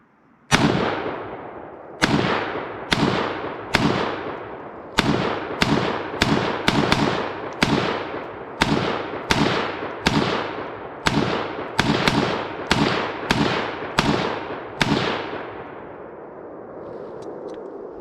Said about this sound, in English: Now I'll let J-Ro try the G36.